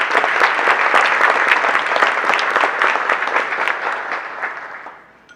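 An audience at a charity program gives a loud, sustained round of applause, dense clapping close by that tapers off and fades out in the final second.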